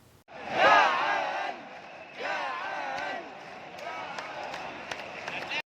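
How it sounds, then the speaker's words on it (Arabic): Al Ahly football supporters sing and chant together in the stands before a derby match against Zamalek, a loud crowd swell at first that eases into steadier massed chanting with scattered shouts. "على الناحيه التانيه جمهور الاهلي بقى بيغني ويهتف لزيزو"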